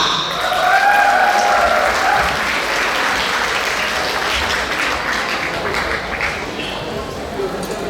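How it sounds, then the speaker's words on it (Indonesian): Sustained applause from an audience at a session in Batam, steady clapping throughout that gradually eases slightly, with some voices mixed in. "Mana dia tepuk tangannya?"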